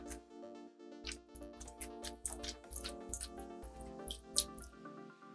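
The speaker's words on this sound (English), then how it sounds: "I'm just gonna squish it so that we get a lot of that water out of here" Gentle squishing of a soaked heat-friendly synthetic wig by hand, pressing water out without wringing: a run of soft wet squelches and drips in steady rhythm, close and quiet, with music playing underneath.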